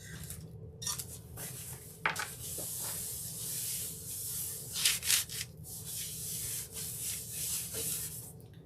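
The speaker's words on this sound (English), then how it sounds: "we're going to wipe it down with a little alcohol to remove any grease" A towel dampened with alcohol is wiped and rubbed over a decorative tile tray, giving soft, uneven swishing strokes with a few brief louder scrubs and light taps, and no voices.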